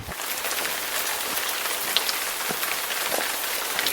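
Steady rain pattering on surfaces along the Isle of Wight coast near Porchfield during a long hike, a dense continuous hiss with occasional louder drops, close and fairly loud, no voices.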